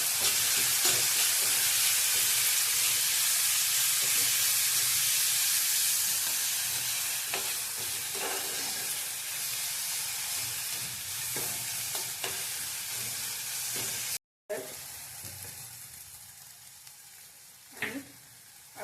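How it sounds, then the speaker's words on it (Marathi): Garlic, ginger and green chili paste frying in hot oil, a dense continuous sizzle with periodic spatula stirs and clinks, easing slightly after a short cut near the end. "आता लसूण आलं मिरची पेस्ट केलेली ती टाकून चांगली तेलात आपण भाजून घ्यायचं"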